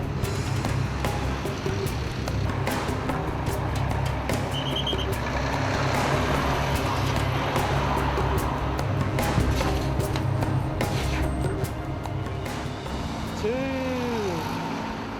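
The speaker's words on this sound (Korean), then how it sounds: "빠른 속도로 달려오는 수많은 차량들을 통제하기란 쉽지 않다" Many vehicles speeding along a highway, a continuous dense roar of cars and trucks passing at speed, with brief beeps and a faint tonal squeal late on.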